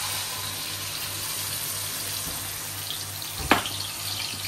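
Blended tomato paste for sambal frying in a pan, a steady sizzling hiss throughout with a brief clatter near the end.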